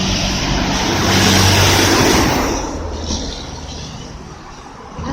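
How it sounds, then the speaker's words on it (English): Buses and other traffic pass along a road, a loud close rush of engine and tyre noise that swells and then fades as vehicles go by. "These buses normally make a lot of noise going past me."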